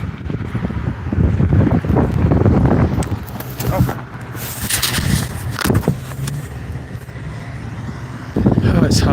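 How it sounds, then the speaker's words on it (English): Gusty wind blowing outdoors at a street outreach event, battering the microphone with loud low rumbling buffets that rise and fall throughout, under and between people talking nearby. "It's so windy today."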